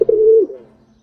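A Maltese pigeon, an ornamental domestic pigeon breed, gives a single close, low coo that swells and then fades out, heard alone.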